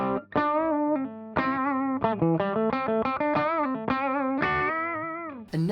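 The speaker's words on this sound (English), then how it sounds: "we have this, which is the guitar being compressed by the compression pedal" Electric guitar through a compressor pedal playing a melodic single-note line with a smooth, even, sustained tone, each note held at steady loudness, close and alone.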